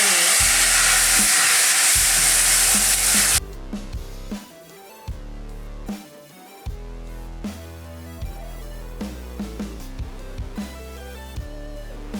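Cheese halva being stirred and roasted in a pan, a loud hissing sizzle for a few seconds before it cuts off and background music takes over.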